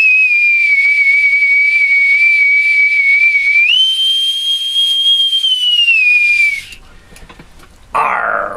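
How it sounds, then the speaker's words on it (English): An authentic bosun's whistle from Newport, Rhode Island gives a loud, sustained shrill tone that jumps to a higher pitch midway, then cuts off, followed by a short hissy burst near the end. "with my authentic bosun's whistle"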